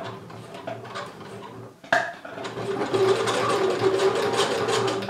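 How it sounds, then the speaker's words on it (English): A sewing machine runs an elastic stitch while sewing bikini straps, making a strange mechanical noise: a quieter clatter, a sharp knock, then louder rapid rattling and whirring. "My machine is doing a strange noise."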